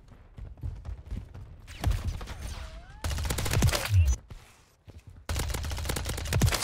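Rapid bursts of automatic gunfire from a Modern Warfare 3 free-for-all match, loud and close, sharp cracks in clustered volleys with short gaps between them.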